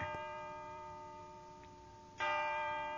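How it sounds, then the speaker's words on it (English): Church bells ring with sustained, overlapping tones that hum on, swelling again as a fresh strike lands near the end. "I recall a cacophony of church bells."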